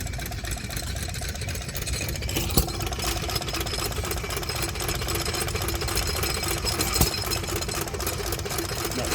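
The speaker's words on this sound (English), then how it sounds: "Let's pick up the sound of the engines running." Engines running at the Portland tractor and engine show make a steady, dense mechanical drone with a couple of sharp knocks, continuous throughout and fairly close.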